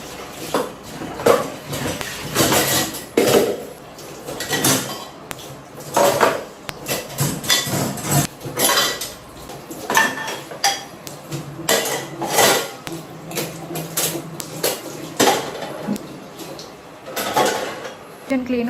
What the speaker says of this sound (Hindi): अभी मैंने ये वाले बर्तन धोए